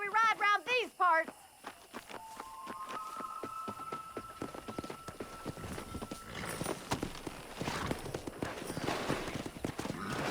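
Horse hooves clip-clop at a steady riding rhythm in the Western game Red Dead Redemption, fairly close and continuous, after a horse whinnies at the start, with music and ambient noise layered underneath.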